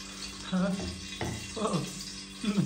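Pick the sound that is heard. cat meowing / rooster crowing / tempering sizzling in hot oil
tempering sizzling in hot oil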